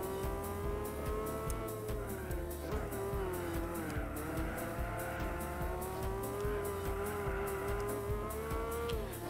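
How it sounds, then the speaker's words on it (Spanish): A race car in Gran Turismo 4 on the Nürburgring, its engine droning steadily while the tires squeal and skid almost continuously at a constant, fairly loud level. "me está costando mucho mantener el coche en pista porque este coche derrapa mucho"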